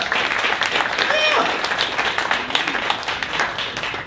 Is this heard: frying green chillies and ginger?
no